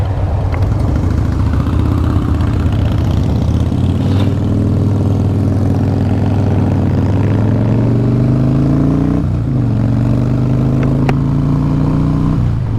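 A 2014 Harley-Davidson Breakout FXSB V-twin motorcycle engine pulls hard and loud, its pitch climbing steadily through the gears with a couple of brief drops at each shift, then rising again.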